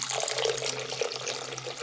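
Homemade Jamaican carrot juice poured from a container into a pitcher with brown sugar in the bottom, a steady close splashing stream with no talking.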